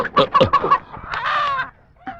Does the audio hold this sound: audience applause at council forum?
no